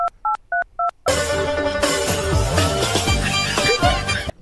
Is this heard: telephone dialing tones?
yes